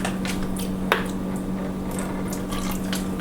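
Packaged oatmeal gets water poured in, heard as a soft, continuous trickle with a few small splashes and squishy sounds up close.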